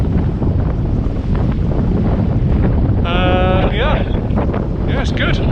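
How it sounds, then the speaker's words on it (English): Steady, loud wind roars across the microphone on a solo-sailed boat in a 14–15 knot breeze with gusts to the low twenties. It continues without a break, with brief whistling tones and a short voice-like sound partway through. "The wind is settled down a little bit now, 14-15 knots, gusts back there up to 23, 24"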